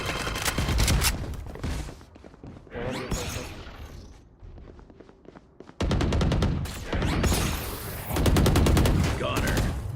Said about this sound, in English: ए पे गोलियां चला रही हैं 3 लोग।